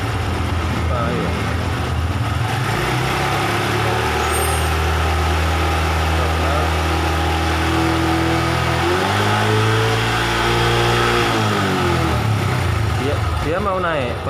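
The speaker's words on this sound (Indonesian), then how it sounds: "Kita coba gas sedikit." Honda Revo Absolute motorcycle engine being revved, a loud close idle that climbs and falls in pitch as the throttle is opened, with someone talking over it throughout.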